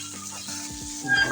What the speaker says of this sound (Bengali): মাছগুলো তো এক সাইড ভাজা হয়ে গেছে, এখন উল্টেই দেবো